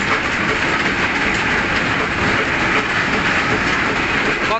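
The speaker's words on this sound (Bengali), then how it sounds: "এটি বড় স্পেলার মেশিন, একেবারে ঝরঝর করে বৃষ্টির মতো কিভাবে তেলগুলো পড়ছে।" A large mustard oil expeller machine runs loudly and continuously, a dense steady mechanical roar and hiss with no pauses, as fresh oil pours out.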